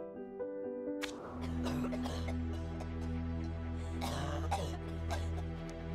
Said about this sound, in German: Sorry, durfte ich einmal ganz kurz husten.